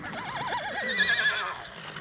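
Horses neighing out at pasture near volcanoes, one loud close whinny with a rising and falling wavering pitch that fades out, with no voices.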